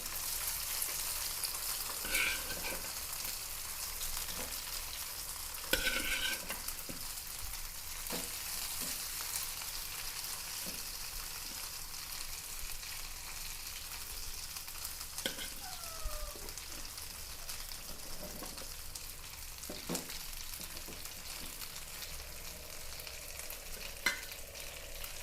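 Already-cooked chicken pan-fried with salt and masala sizzles softly and steadily throughout, with occasional stirring scrapes and clinks over the continuous hiss.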